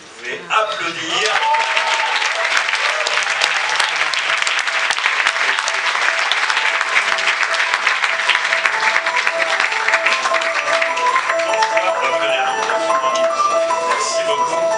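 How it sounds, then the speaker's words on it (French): Sustained audience applause fills a film festival closing ceremony hall, starting abruptly and holding steady and loud for the whole stretch with no break. "vous pouvez applaudir."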